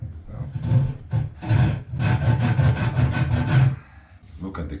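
Hand saw cutting through wood while building a bushcraft bucksaw with hand tools only, a steady run of close rasping back-and-forth strokes in a quick rhythm, pausing briefly before a few final strokes.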